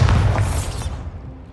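A Bombarda spell blast in Hogwarts Legacy, a single close, heavy boom with a sharp crack at the start, then a rumbling tail that fades over about a second.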